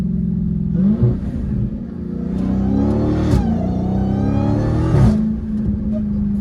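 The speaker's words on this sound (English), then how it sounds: "Obviously I'm gassing it now" An 800hp Dodge Hellcat Redeye revs hard in repeated throttle blips, its engine note climbing and dropping with sharp surges around the middle and near the end, loud and close with faint voices in the background.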